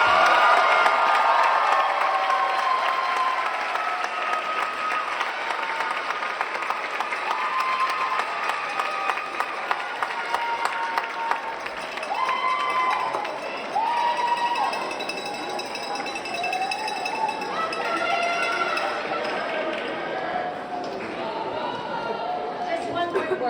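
Families in a large hall cheer, shout and applaud for students at a middle school graduation, a loud sustained crowd roar with whoops and children's shouts, a voice on a speaker coming through it.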